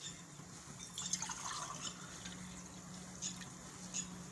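Water trickles and splashes into a pot, a light, uneven pouring sound with small drips, faint and near, over a low steady hum, with no talk.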